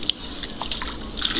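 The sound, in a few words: water being poured while washing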